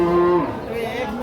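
A cow, a young Holstein Friesian dairy cow, lets out one close, loud, drawn-out moo at a cattle market, briefly and alone.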